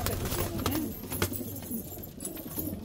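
Pigeons, mostly black ones kept for sale, coo softly in a loft with a few low, rolling calls, heard faintly under background noise and a voice.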